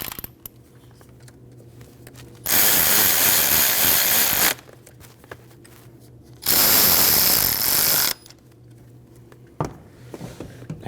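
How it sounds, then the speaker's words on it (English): A power tool tightens bolts on a 1.5L four-cylinder Ford Escape engine, giving two loud, close bursts of buzzing rattle about two seconds each, separated by quiet pauses with light clicks. "And tighten your bolts."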